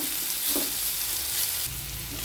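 Chopped onion sizzles in a hot pan while making Maggi, a steady frying hiss with a few soft stirring knocks, close and fairly loud throughout.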